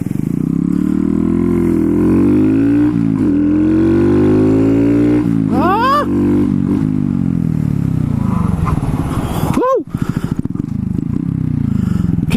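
A Honda Grom motorcycle fitted with a 14/37 sprocket riding close by, its small engine droning steadily through the gears with rising revs, a couple of sharp throttle blips and quick shifts.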